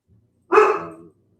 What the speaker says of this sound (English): pardon me as the dogs go off